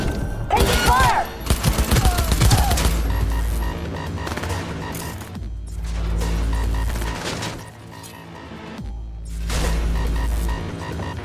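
Sustained gunfire bursts in the video game Cyberpunk 2077, heavy and loud with deep booming thuds and a throbbing hum between volleys, in a busy combat mix.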